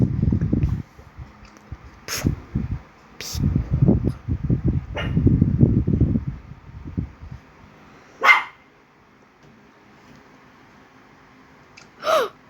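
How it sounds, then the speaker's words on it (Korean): A dog barks repeatedly indoors at night, close and loud, in clustered bursts over the first several seconds before quiet settles, broken only by a couple of brief faint sounds. "너 왜 계속 짖어?"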